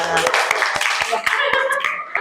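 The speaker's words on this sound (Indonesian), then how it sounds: "Kasih tepuk tangan teman-teman." Classmates clap together in a college microteaching classroom, quick uneven claps from a small group layered over a voice speaking.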